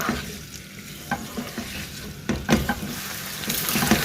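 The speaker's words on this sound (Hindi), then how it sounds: "ये मैंने तकरीबन आधा किलो आलू लिए थे और इनको गोलाई में काट लिया था। और अब हम इसको करेंगे, थोड़ा सा फ्राई करेंगे।" About half a kilo of round-sliced potatoes fry in hot oil in a karahi pan, a steady sizzle broken by scraping stirs and occasional clacks of a utensil against the pan.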